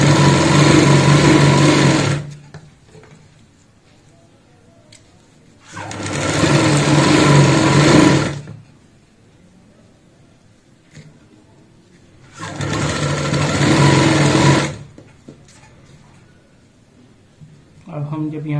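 A sewing machine stitches a doormat made from an old jute sack, three loud sustained runs of motor whir separated by quieter gaps.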